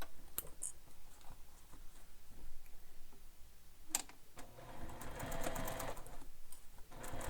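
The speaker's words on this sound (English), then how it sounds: "We're going to sew right on top of that." A sewing machine stitches along a drawn line on a handbag, running in a steady mechanical whir with faint ticking, a few louder clicks and a busier stretch toward the end.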